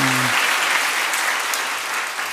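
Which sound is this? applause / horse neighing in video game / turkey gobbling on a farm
applause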